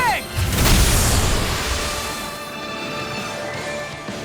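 Flashing bang skill from Tales of Arise: a sharp whooshing burst with a booming crash near the start, then a fading shimmering tail over a low ambient bed.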